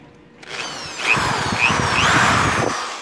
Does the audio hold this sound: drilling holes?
yes